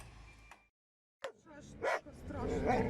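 A dog close beside the speaker makes a few short, sharp noises, one near the start and others mixed with the louder talk that follows a brief silence.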